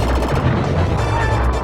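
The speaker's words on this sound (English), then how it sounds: "I was worried about the big explosions and not the little particle effects." Dense, continuous explosions and gunfire-like blasts from the SNES run-and-gun game Contra III: The Alien Wars, a loud, unbroken barrage of booms and crackle with no speech.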